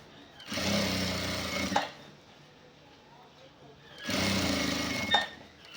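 An electric sewing machine stitches along a shirt collar edge in two short bursts of rapid whirring separated by a quiet pause, close and moderately loud.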